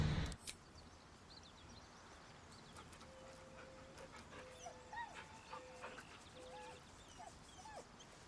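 A dog in Baldur's Gate 3 whines in a series of short, high, rising whimpers that repeat over several seconds. It is quiet against a faint game ambience.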